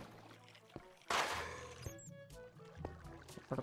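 Water poured from a bucket in the video game Minecraft, a sudden splashing gush followed by softer trickling and flowing, with quiet background music and other game sounds around it.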